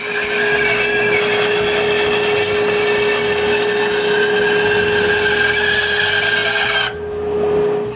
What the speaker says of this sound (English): I cut the legs fancy curve on the bandsaw.